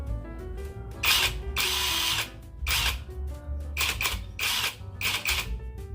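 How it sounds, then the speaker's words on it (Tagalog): A Keelat DIY impact wrench bought online is run in short repeated bursts, each a loud, close, buzzing whir with brief pauses between triggers. "binili ko sa Shopee na impact wrench"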